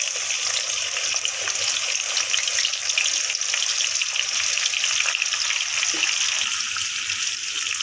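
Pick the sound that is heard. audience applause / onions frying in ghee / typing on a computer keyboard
onions frying in ghee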